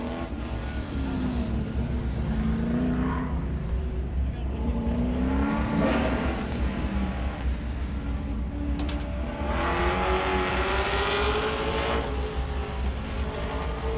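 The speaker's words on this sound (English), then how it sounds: "Ryan on the throttle out of 4 through the chicane, hard on the throttle to the finish line" A 1969 Camaro race car accelerates hard through a chicane toward the finish line of a hill-climb event, its engine note rising and falling across several gear pulls at middle distance, with an announcer talking over it.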